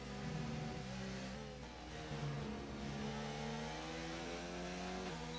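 Race car engines roar steadily in a PC racing video game, several cars revving and shifting close together through a drag run into a right-hand corner, continuous and loud with no talk.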